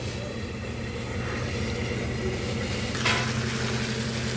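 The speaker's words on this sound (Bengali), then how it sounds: "আবারও কষিয়ে নেব 5 মিনিট" Pieces of sea coral fish cook in a spice masala with a steady, soft sizzle and hiss over a low background hum, broken by a brief stirring rustle near the end.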